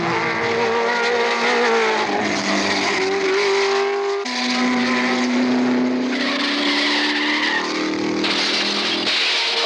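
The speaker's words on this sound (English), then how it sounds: "Spectacular flip by the number 60 MGB." Race cars at the 1970 Sebring 12 Hours roar past loudly and continuously, engines rising and falling as an MGB throws a tire and flips, with tire squeal and shifting engine pitch throughout and no talking.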